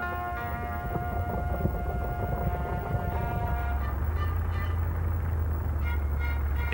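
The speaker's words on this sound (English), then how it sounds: "The fighter pilots are woken by the sound of engines." WWII fighter plane engines start up with a droning, tonal whine, and a deep, heavy rumble builds underneath. The sound is continuous and fairly loud, with no talking.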